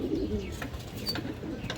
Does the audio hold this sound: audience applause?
no